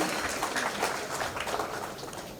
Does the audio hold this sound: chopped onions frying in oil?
no